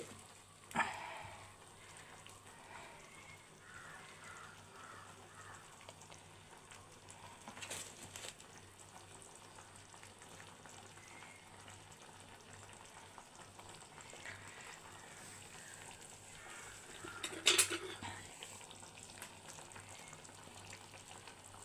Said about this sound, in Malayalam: ഇപ്പോൾ അത് തിളച്ച് വരുന്നുണ്ട് കേട്ടോ.